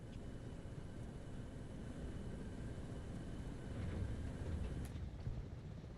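An AH-64 Apache helicopter flies in the video game Arma Reforger, a steady broadband rotor-and-engine roar that holds constant and fairly loud throughout, with no talk.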